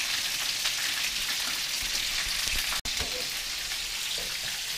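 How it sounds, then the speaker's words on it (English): Sausages, egg and bacon fry in a farmhouse kitchen on Dartmoor, making a continuous dense sizzle like light rain that runs evenly throughout, broken only by one brief dropout near the end. "There's Simon cooking the sausages, egg."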